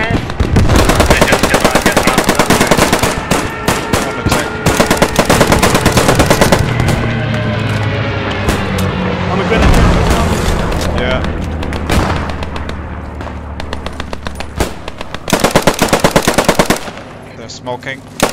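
Thompson submachine gun fire in Post Scriptum, during a defence of the Hotel Wolfheze: long, loud automatic bursts with booms and distant shots mixed in, under people talking.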